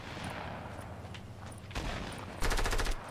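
Bursts of rapid gunfire from a Fortnite match, loud rattling volleys that end in a dense automatic burst.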